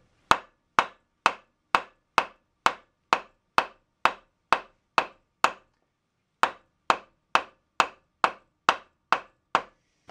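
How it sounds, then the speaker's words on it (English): Gentle hammer taps on a bearing of a Rockwell Delta RC-33 four-post planer, struck in a steady even series of sharp close knocks, a brief pause, then another run of identical taps. "I'm tapping this gently so as to not damage the bearings."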